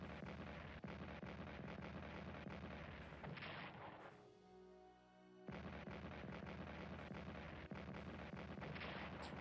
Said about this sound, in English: We've got some defensive artillery going on.